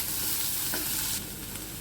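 Mackerel fish cutlet mixture seasoned with chili powder is stirred in a bowl, giving a steady, close scraping and mixing sound with one brief knock partway through; no one speaks.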